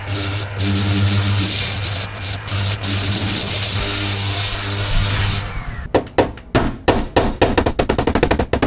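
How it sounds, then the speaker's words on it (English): Eighty-grit sandpaper rasps over a car body panel around a dent, first in a long, steady run of loud rubbing strokes, then in a quick series of short, sharp scrapes near the end. "using some 80 grit sandpaper to sand around the dent"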